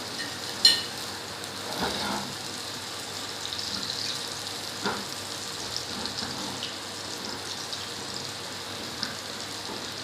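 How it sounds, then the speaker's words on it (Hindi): Beef reshmi kababs fry in a pan, giving a soft, steady sizzle with a few faint clicks and bumps, fairly quiet and with no talking. "एक साइड से ये हो जाते हैं अच्छे से फ्राई"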